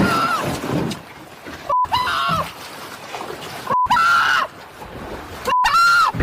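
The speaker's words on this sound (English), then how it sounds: "what kind of bird is that?" Loud honking bird cries, goose-like, come in four separate bursts at intervals, each a sharp harmonic call standing out over a background of outdoor noise.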